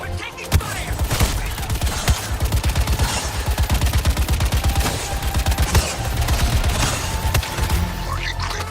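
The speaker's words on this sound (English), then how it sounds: "We're taking fire!" Rapid automatic gunfire rattles in dense, sustained bursts during combat in the Suicide Squad video game, loud and close, with scattered impacts and brief pauses.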